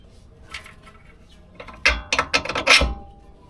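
Sharp metallic clanks and rapid ratchet clicks from a wrench unbolting 18 mm strut nuts and bolts on a G20, starting faintly and then coming as several close, loud bursts over about a second and a half.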